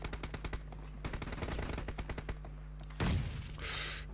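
Rapid AKM bursts in a deathmatch shooter game, a quick run of close, repeated shots over about two and a half seconds, followed by a louder blast and a hissing tail.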